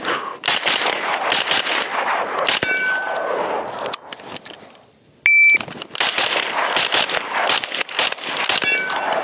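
A Springfield Armory Hellion bullpup rifle fires rapid shot strings at rubber dummies and steel targets outdoors, sharp loud cracks with metallic clangs, a shot-timer beep at the restart and a pause midway.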